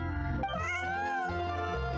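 A cartoonish cat meows in a video game, a drawn-out, pitch-bending mew held for about two seconds, close and clear over soft game background music with no talking.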